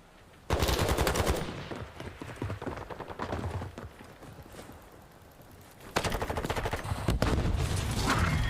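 Rapid machine gun bursts blast out in a competitive Call of Duty match, dense and loud, with a brief lull before heavy firing resumes.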